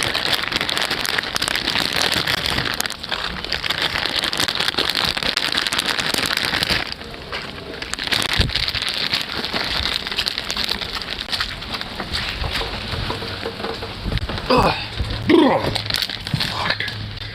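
Steady, dense rain pattering on surfaces outdoors in Oregon, loud and continuous throughout with a few sharper drips and cracks near the end.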